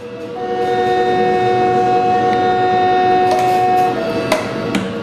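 Moroccan high-speed TGV horn blasts a steady two-tone note for several seconds over the rumble of the moving train, then briefly shifts pitch as track clicks punctuate the end.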